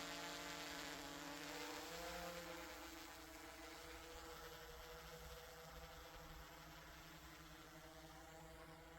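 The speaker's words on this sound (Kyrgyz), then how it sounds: "Жаңы дрон" A new drone flies at a new horse-racing ground in Ala-Buka district, Jalal-Abad region. It gives a loud, steady, close buzzing hum that eases slightly after a few seconds, with no talking.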